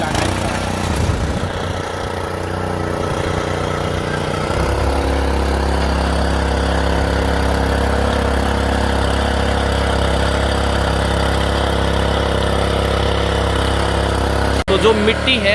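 A Honda FJ300 power tiller engine idling steadily and loudly up close, a continuous low chugging drone that settles into an even hum after a few seconds, with a brief knock near the end.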